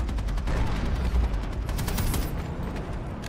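Sustained rifle fire in the online shooter Planetside Arena during a large 300-player battle, dense loud bursts of shots layered with distant explosions and battle noise, no talking.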